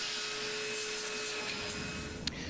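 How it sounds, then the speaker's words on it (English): A vacuum cleaner drones steadily as it sucks loose tape bits out of an Ampex VR-1200B videotape recorder under restoration, a close, even whine with a brief sharp click near the end. "But of course just using the vacuum cleaner is not enough."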